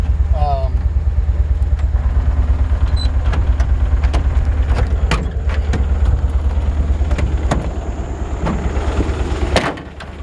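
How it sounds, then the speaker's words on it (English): A 1951 Ford F1 pickup idles with a loud, steady low rumble and a faint vibration underneath, with scattered clicks and rattles throughout. "There's something vibrating underneath the truck."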